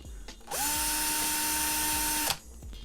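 A power drill spins up sharply into the back panel of a modded Arcade1Up NFL Blitz arcade cabinet, holding a loud, steady whine for almost two seconds before cutting off.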